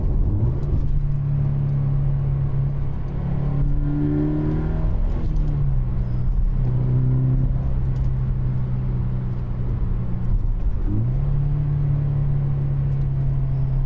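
A Toyota GT86 / Subaru BRZ / Scion FR-S engine fitted with an HKS Premium Suction intake hums steadily from inside the cabin, its tone rising and falling as it revs up and settles, with a deep throaty drone throughout.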